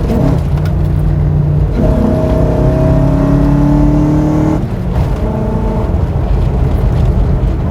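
A Toyota Hilux engine fitted with a new intake revs loudly at roughly half throttle, climbing in a steady rising drone that holds, then drops away and settles back into a lower rumble.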